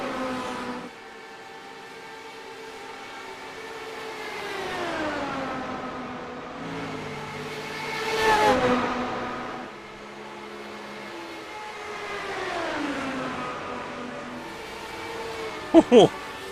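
Vintage sprint car engines from iRacing whine and rise in pitch through repeated acceleration sweeps, swelling louder around a pass, while a commentator talks over them.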